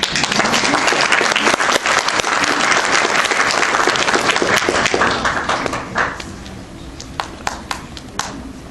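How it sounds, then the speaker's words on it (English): Dense audience clapping fills a performance hall, loud and continuous for about six seconds, then dwindling to a few scattered claps. "Don't be afraid to clap."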